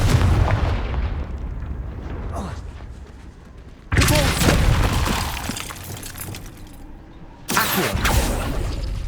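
Confringo fire-blast spell from the Hogwarts Legacy video game: loud explosive booms burst in abruptly twice with crackling, shattering debris, trailing off between blasts over a dense game soundscape.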